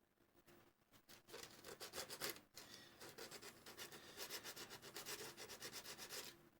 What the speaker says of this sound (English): I'm doing some sanding